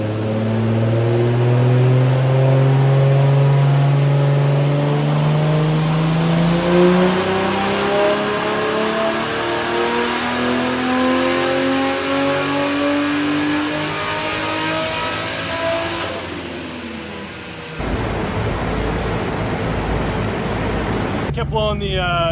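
A turbocharged 1JZ-GTE VVTi engine in a Pulsar revs hard on a dyno, pitch climbing steadily for about seventeen seconds before cutting off into a rougher idle-like rumble, loud and close throughout.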